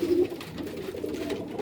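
Pakistani pigeons cooing softly nearby, a low repeated coo at the start followed by quieter murmuring calls against a faint background.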